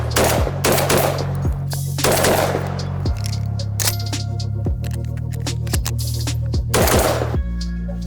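A Rev Arms Impact M4/R4 fires shells during a torture test, with close, loud rapid bursts of gunfire and ringing echoes between bursts, with no talking.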